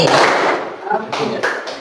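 A classroom of students clapping hands in a chanted rhythm pattern, sharp claps mixed with the group's voices chanting along, close and loud in a school room.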